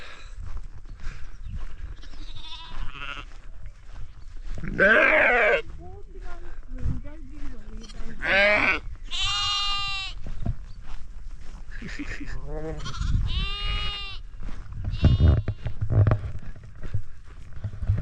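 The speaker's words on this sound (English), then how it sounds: "We got some little lambs in the field, jumping around." Young lambs bleat in a field along the Cotswold Way in England. Several separate, fairly close bleats are heard over soft outdoor background noise.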